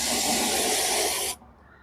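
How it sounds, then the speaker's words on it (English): Wasp and hornet killer spray jets out as a clear liquid stream in one steady, loud, close hiss that cuts off sharply after about a second and a half, leaving quiet room noise. "it sprays on clear. There's no foam to it. It's just clear liquid."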